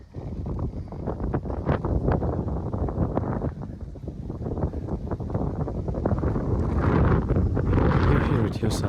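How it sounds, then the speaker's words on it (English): Strong wind at a high, exposed antenna site roars and buffets against the microphone steadily throughout, loud and unbroken, with someone speaking briefly under the gusts. "God damn, the wind up here."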